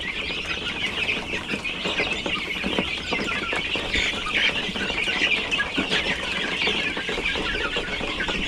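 Chickens clucking continuously in a flock, a busy layered chorus of hens at moderate volume with no speech.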